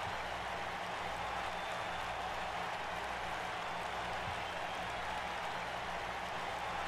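Crowd cheering in a WWE 2K19 wrestling video game, a steady, dense roar of an arena audience holding at an even level throughout, with no voices speaking over it.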